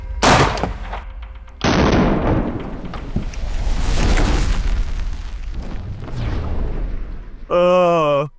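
Rifle fired with a bare muzzle, no muzzle device fitted: a few sharp, loud gunshot cracks spaced apart, each with a booming tail, close by, ending on a brief electronic beep tone.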